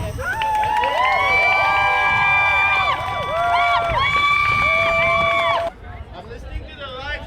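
A protest crowd in Fredericton screams and cheers loudly in sustained overlapping whoops and shouts for several seconds, then cuts off abruptly to quieter, thinner crowd noise.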